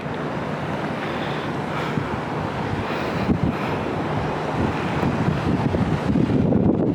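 Wind and sea waves at the Aazhimala seashore blend into a continuous loud roar, with wind buffeting the microphone and surf swelling slightly toward the end, with no talk.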